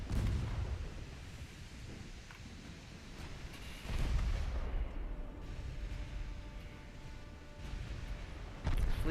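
Heavy naval gunfire from battleships in Ultimate Admiral Dreadnoughts, set amid bad weather, with repeated deep booming salvos over a constant low rumble and crackle, loudest near the start and again around the middle and end.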